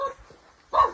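A dog at a rural village home lets out a sudden loud bark near the end, following a quiet stretch with faint background rustle.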